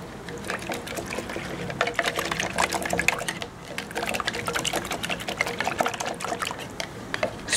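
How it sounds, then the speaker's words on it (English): Vinegar poured and trickling into a container to soak a pair of sunglasses, a steady, close liquid splashing and dribbling that runs for several seconds with a brief dip midway. "Just soak it in vinegar."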